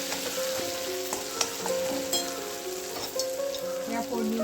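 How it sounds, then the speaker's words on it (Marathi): Ground masala of coconut, green chilli and cashew fries with crackling cumin in a pan, a steady close sizzle with soft stirring scrapes and no talk. "चांगला हा मसाला फ्राय करायचा आहे"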